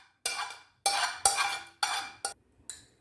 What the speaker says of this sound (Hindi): अब हम इसमें डाल देंगे किसे हुए आलू